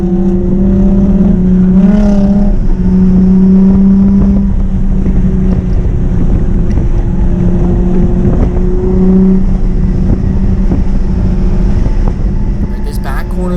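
A drift car, running bigger Work VSKF wheels at a Topp Drift season-opener event, is held hard in third gear on track. It makes a loud, steady engine drone with rising and falling pitch that runs continuously, with wind buffeting the microphone.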